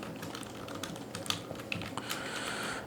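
Typing on a computer keyboard, a run of quick, irregular clicks and clacks of keys at close range, with a few louder key strikes and a faint background whine near the end.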